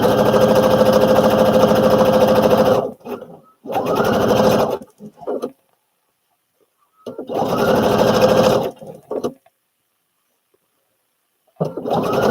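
Sewing machine stitching woven pants fabric from a Butterick B5572 pattern, running in steady bursts of several seconds separated by quiet pauses, close and loud with no talking.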